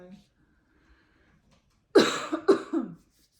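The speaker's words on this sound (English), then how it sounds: "sorry about all my coughing, guys" A short burst of two or three harsh coughs close to the mic, breaking a near-silent pause.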